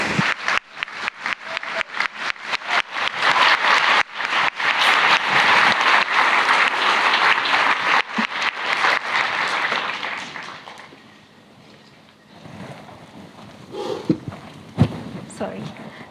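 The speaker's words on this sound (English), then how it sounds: "So with a big round of applause, let's welcome Ms. Malala." A conference hall audience applauds to welcome Malala to the stage, a loud sustained wash of many hands clapping that thins and dies away, followed by quieter room sounds and a voice at the lectern.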